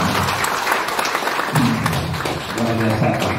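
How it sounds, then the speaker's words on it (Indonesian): An audience at a meeting claps in a dense, steady burst that lasts throughout, loud and close, with a voice speaking over the applause in places. "Tepuk tangan dong buat Pak Suherman"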